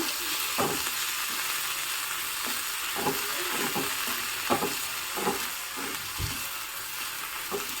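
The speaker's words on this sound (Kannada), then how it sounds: "ಈಗ ಇದನ್ನು ಚೆನ್ನಾಗಿ ಬಾಡಿಸ್ಕೊಳ್ಳೋಣ" Fenugreek leaves sautéing in ghee in a pan, a steady sizzle with a series of stirring scrapes and taps spread through it, no voices.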